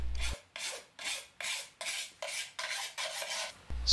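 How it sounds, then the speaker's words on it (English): A coarse file rasps along the edges of archival jacket halves in about nine even, close strokes, each a bright scraping burst with brief pauses between. "With a coarse file, smooth and round the edges of both jacket halves."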